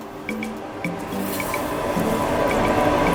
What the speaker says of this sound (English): you can just add a little bit of the fish stock, the one that you soaked the stockfish in